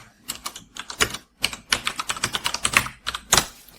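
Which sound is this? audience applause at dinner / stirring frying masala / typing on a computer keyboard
typing on a computer keyboard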